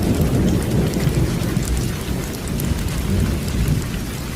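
Heavy rain pours steadily with rolling thunder during a storm, a loud, dense, continuous roar with low rumbling throughout and no voices.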